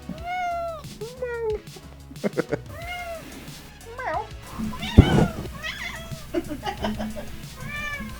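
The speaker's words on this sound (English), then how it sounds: "You meow, you get picked up. You know the rules." A cat meows repeatedly in rising, drawn-out cries, close by, with a few soft thumps and faint background voices between the calls.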